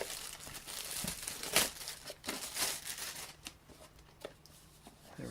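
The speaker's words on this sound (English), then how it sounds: "This comes in another plastic bag where you're not supposed to suffocate children with it." A plastic bag from a GoPro Hero 7 Black box is handled and pulled open, giving close, crisp crinkling and rustling in irregular bursts with a few sharper crackles, quiet and without talk.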